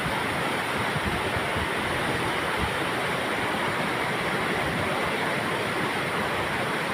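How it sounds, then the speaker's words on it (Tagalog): Strong river current rushing loudly and steadily, a dense broadband roar of churning water close by with no talk over it. "Lakas ng agos ano."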